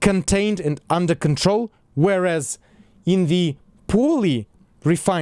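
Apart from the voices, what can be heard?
None of the usual background noises is heard.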